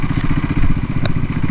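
CCM Bobber motorcycle engine pulsing steadily while riding on the road, a loud, continuous throbbing with a brief sharp click partway through.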